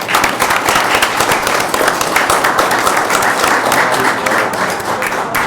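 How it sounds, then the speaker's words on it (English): A crowd at a city council meeting applauds loudly and continuously, dense clapping from many hands that holds steady throughout without a break. "Another round of applause for that."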